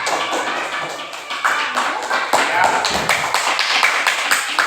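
Schoolchildren clap their hands in a classroom at the end of a lesson, a dense, uneven patter of many small hands close by, with a brief spoken word mixed in.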